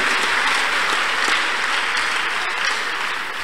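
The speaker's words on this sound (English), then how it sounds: "Clap your hands unto God of the Chosen." A church congregation applauds at a testimony service, a dense, even wash of many clapping hands that holds steady and loud from start to finish.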